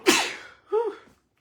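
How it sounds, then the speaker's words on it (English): A sharp sneeze bursts out close to the microphone, followed a moment later by a softer second sneeze or exhale, with quiet between them. "sneeze again"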